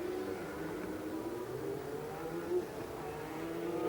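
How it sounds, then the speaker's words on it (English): Formula 1 cars heading out for qualifying at the 1990 San Marino Grand Prix at Imola, a faint, distant engine drone that rises and swells as the cars accelerate, heard alone without commentary. "Now another group of cars going out for qualifying"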